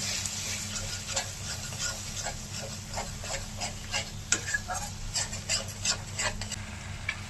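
A spice paste with Kashmiri chili powder, turmeric and a splash of spiced water is sautéed in a pan, giving a rhythmic scraping of the spatula over a soft, continuous sizzle with a low hum beneath.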